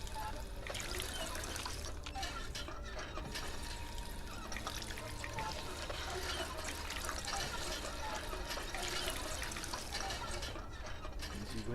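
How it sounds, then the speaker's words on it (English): A character drinks water in the Fallout London game: steady trickling and pouring water runs continuously for over ten seconds at moderate loudness, with no clear breaks. "Just drink some water."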